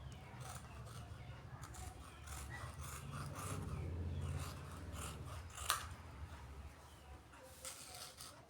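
Scissors cut through blouse fabric, giving soft, faint snipping and rubbing strokes close by in a quiet room, with a sharper snip midway.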